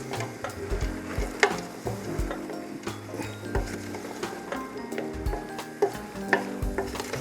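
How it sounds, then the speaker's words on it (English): Stirring a pot of sausage vegetable soup, with repeated scraping and clinking strokes of a spoon against the pot, close and fairly loud, alone without talk. "Going to give it a stir again."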